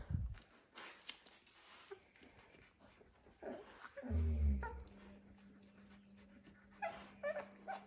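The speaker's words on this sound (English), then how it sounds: "Noisy puppies aren't a good thing." Dalmatian puppies, seventeen days old, whimper, yip and squeal in a pen, with shifting high cries and a few sharper yelps at close range. A low hum runs underneath.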